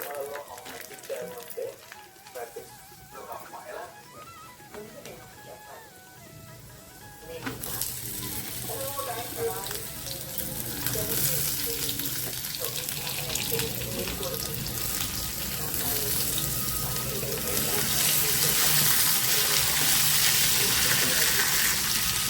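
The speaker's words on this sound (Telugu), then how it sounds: "ఇందులో కొంచెం ఆయిల్ వేసుకొని జీలకర్ర ఎండుమిరపకాయలు వేరుశనగలు దొండకాయలు వేసాను అంతే ఇవే ఫ్రై చేసి" Ivy gourd with cumin, dried chillies and peanuts fries in oil, a steady sizzle that grows louder and fuller partway through, while someone talks over it.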